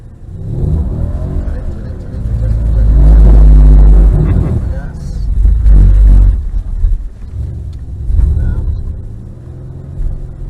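A Mercedes-Benz car on a track is pushed through a drift with the throttle floored to 7,000 rpm, giving a loud, close engine roar that rises and falls as someone talks over it.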